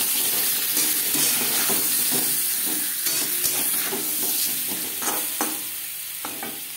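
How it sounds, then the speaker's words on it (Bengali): Potatoes fry in oil with salt and turmeric, giving a steady close-up sizzle with repeated stirring scrapes that ease off slightly toward the end. "লবণ হলুদ দিয়ে আলু ভেজে নেওয়া হয়ে গেছে"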